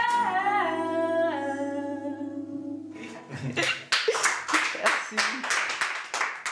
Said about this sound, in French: Le jury applaudit, mais Antoine n'en a pas encore fini.